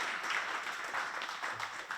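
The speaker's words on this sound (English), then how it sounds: "Guys, can we give them a really big round of applause?" An audience applauds panelists after a talk on setting up socially conscious businesses, a dense wash of many hands clapping at once, steady and moderately loud for two seconds.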